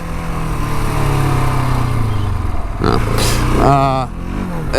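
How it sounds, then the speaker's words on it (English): A KTM 701 Enduro single-cylinder motorcycle of about 60 to 70 horsepower, riding on a road with a loud steady engine drone, a brief rise in revs near the end, and wind noise. "this is really just a very enjoyable bike to ride on the road"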